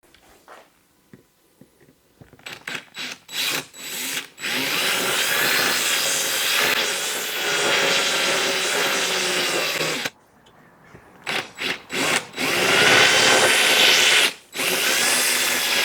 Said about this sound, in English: countersunk rivets, so I have to put a bit of countersink on these